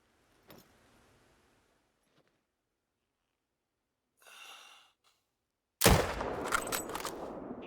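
A single loud, sharp rifle shot from a .375 Magnum in the hunting game Call of the Wild, with a rolling echo after it. It follows a few faint clicks and a soft whoosh.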